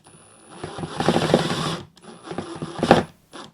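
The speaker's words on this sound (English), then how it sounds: "if you're going to use your impact driver, because these are pretty small sheet metal screws, pretty thin sheet metal, put it on the lowest setting" An impact driver on its lowest setting drives small screws into thin sheet metal: two short whirring, buzzing runs with a rattling hammer texture, close and moderately loud, separated by a brief pause.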